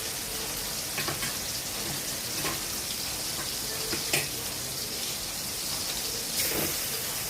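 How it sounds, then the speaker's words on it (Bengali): Something being stirred and fried in hot oil in a pan while cooking a Bengali-style potol chicken dish: a continuous, even sizzling hiss with faint scraping accents now and then, and no voices. "তেলে নেড়ে নিচ্ছি ভালো করে।"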